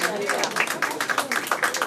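An arts festival audience in Perros-Guirec applauds a painter with a dense, continuous patter of clapping that holds steady under a talking voice.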